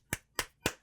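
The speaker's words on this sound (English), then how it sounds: "So I applaud you" Three sharp, evenly spaced hand claps ring out close and fairly quiet, each a crisp isolated smack with nothing else around them.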